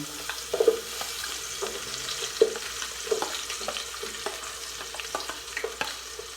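Chopped garlic and onion sauté in a pan with a low steady sizzle, punctuated by scraping stirs and light utensil knocks, close and without talk.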